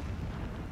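A continuous low, heavy rumble of blasting explosions in the Horizon Zero Dawn video game, filling the whole moment with dense, booming noise and no talk.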